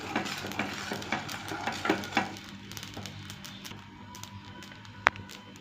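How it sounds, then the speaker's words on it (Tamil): Poppy seeds dry-roasting in a pan, a soft crackling patter with light scraping and stirring clinks, fairly quiet and close, with one sharp tap near the end. "இப்போ கசகசாவை பொறிச்சுக்கிறோம்"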